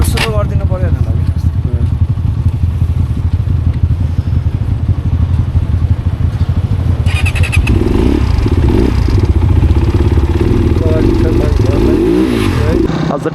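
A motorcycle rides along a road toward the China border through Mustang, its engine droning loud and close with wind rumble and clatter, revving and shifting partway through while someone talks over it.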